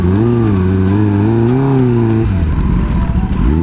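A Kawasaki Ninja ZX10R engine revs hard up close, a loud rising and wavering howl that cuts off sharply and drops into a rough idle.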